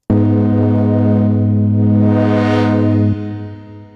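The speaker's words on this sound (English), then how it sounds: "You can see that when we move the filter cutoff, it actually creates this kind of wobble-like sound." A synth preset run through a filter whose cutoff is swept by an LFO, giving a loud sustained tone with a rising and falling bright wobble that peaks midway, then drops suddenly to a quieter tail near the end.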